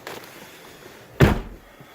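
The door of a 2015 Ford Mustang GT race car closing, a single solid thunk up close after a quiet moment with faint handling noise.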